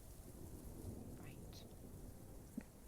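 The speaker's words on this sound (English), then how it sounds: "we're gonna get out of this storm" A thunderstorm with steady rain in a fantasy setting, heard as a constant low wash of rainfall with soft, distant rumbles and a brief sharper knock near the end.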